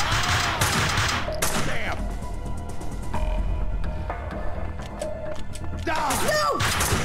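Rapid bursts of gunfire from the video game Max Payne 2, dense volleys and sharp shots filling most of the clip with brief gaps between them.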